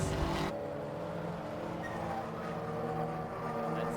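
Racing cars including a Honda Civic and a Volkswagen Golf lapping at Silverstone International during a club enduro race, a steady distant engine roar with a faint passing swell, fairly quiet throughout.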